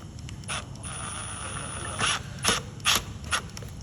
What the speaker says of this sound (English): We want to drive the set screw all the way in.